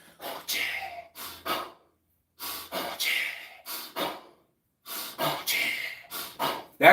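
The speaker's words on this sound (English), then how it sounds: "That's that breathing. That breathing pattern." Sharp, rhythmic exercise breaths come in quick bursts of forceful exhales and inhales, grouped in clusters of three or four with short silent pauses between, close and clear.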